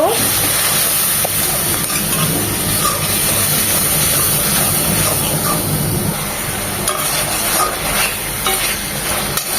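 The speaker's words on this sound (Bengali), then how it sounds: "একটু পানি দিয়ে মশলাগুলো কষিয়ে নেব" Spices with a little water sizzle and hiss steadily in a pan while being stirred for a Bengali kochur mukhi curry, with scraping stirs over the constant frying sound.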